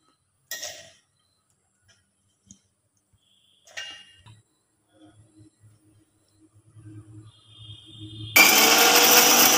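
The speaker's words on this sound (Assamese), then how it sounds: "মিক্সাৰত গুড়ি কৰিম" An electric mixer grinder roars into a loud, steady whir as it grinds ginger, fresh and dried chillies, bay leaf, cumin, coriander and garam masala, after scattered clicks and clatter as it is loaded and set up.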